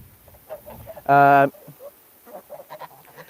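A single loud, drawn-out hen call rings out briefly inside a chicken coop at feeding time, surrounded by soft, scattered clucking and quiet murmurs.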